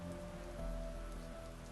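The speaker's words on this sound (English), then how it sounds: "The rain intensifies." Rain falls in a steady, dense patter with a soft hiss, even and unbroken, beneath a faint tonal hum.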